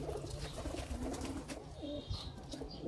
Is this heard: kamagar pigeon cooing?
yes